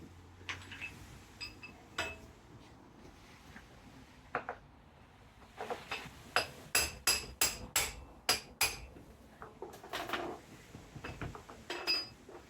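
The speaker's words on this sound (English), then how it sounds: "Little tap on the hammer." Sharp metallic hammer taps on a motorcycle wheel and fork part, scattered at first, then a quick run of about eight evenly spaced strikes, a few more trailing off; close and fairly loud.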